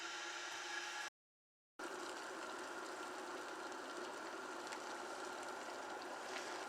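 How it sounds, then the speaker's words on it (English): A kettle heats water toward a boil, giving a steady, fairly quiet broadband hiss and rumble that holds constant throughout, broken once by a brief dropout. "the kettle is starting to boil"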